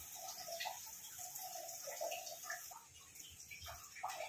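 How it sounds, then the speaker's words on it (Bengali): Fish curry broth for rui macher jhal bubbling in a pot: a soft, continuous burble with irregular small pops and gurgles, close and quiet, with no talking. "দেখো আমার ঝোলটা ফুটে উঠেছে"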